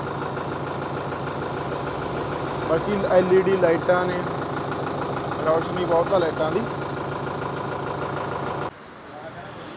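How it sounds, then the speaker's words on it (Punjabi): A new 2025 Preet Yodha 60 tractor idling at a dealership in Malerkotla, a steady mid-pitched diesel rumble that holds constant for most of the stretch and then drops off sharply near the end, with someone speaking over it. "ਬੜੀ ਘੈਂਟ ਆਵਾਜ਼ ਆ ਟਰੈਕਟਰ ਦੀ"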